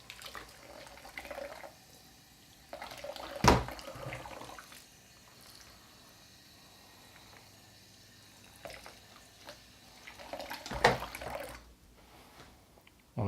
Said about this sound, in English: Just rinse some of that suds out, because you don't want the suds inside